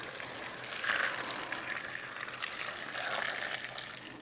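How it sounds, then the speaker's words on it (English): Three cups of hot boiling water poured into a bowl of dried chile peppers, giving a steady close splashing and trickling pour with a brief louder surge near the start and another later on. "I'm going to add 3 cups of hot boiling water."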